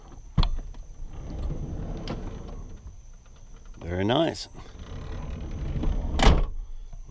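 Sliding door on a Mercury Villager / Nissan Quest minivan rolled and latched, with a sharp clunk early, a grinding slide in the middle and a hard slam near the end, a voice speaking briefly between.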